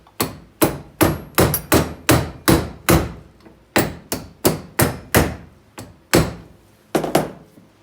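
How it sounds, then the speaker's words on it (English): Brake pads being tapped into place while fitting disc brakes on an early Volkswagen Bay Window bus, heard as a series of sharp, close knocks in an uneven rhythm, about a dozen and a half strikes with short pauses between them. "And then just to give them a little tap, they should go right in."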